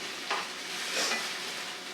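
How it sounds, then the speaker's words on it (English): Onions and garlic sauteing in a pan, giving a soft, steady sizzle with faint stirring scrapes near the start and middle; no talking. "I'm going to go ahead and saute this until, like I said, the onions and the garlic and everything is starting to become"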